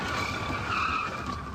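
A car being rammed on a highway near the border, with tires skidding and squealing loudly in a continuous screech over road rumble, with the fender rubbing on the tire.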